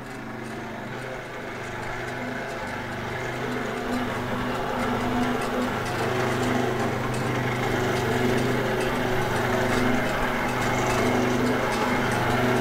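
A noodle-making machine runs with a steady mechanical hum and drone that slowly builds in loudness, a continuous motor tone with faint rattling, no talk over it.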